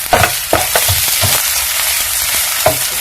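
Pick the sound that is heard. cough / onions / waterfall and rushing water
onions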